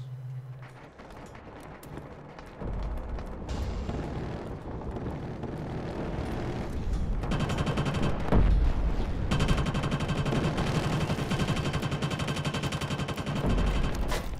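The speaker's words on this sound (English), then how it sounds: "Someone took a shot at me." Gunfire in a Killzone Shadow Fall multiplayer team deathmatch in the Slums, scattered shots and rapid bursts over a dense, roaring battle din that builds and stays loud, with no speech.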